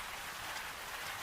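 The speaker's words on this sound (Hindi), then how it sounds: "बाहर बारिश अब और तेज हो चुकी थी।" Heavy rain falling outside a village house at night, a dense steady hiss of drops lasting just over a second, faint and even, with no voices.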